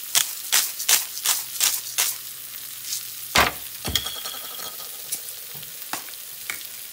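Ingredients for a low-carb egg burrito sauté in a pan with a soft sizzle, punctuated by a quick series of scraping stirs and clinks from a utensil against the pan, close and clear.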